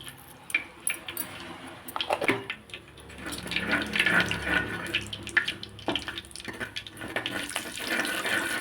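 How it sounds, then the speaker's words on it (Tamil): Mustard seeds spluttering in hot oil for a spicy ivy gourd kulambu, a dense crackling sizzle with scattered sharp pops, fairly close and continuous without speech. "கடுகு பொரிஞ்சிருச்சு"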